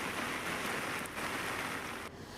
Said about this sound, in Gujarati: વરસ્યો છે અનરાધાર વરસાદ